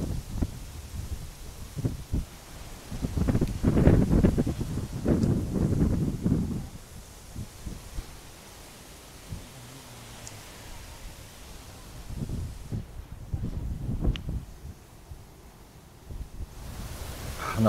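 Gusty coastal wind on Aruba buffets the microphone in rumbling, uneven surges that rise and fall, with quieter lulls between the stronger blasts and no talking.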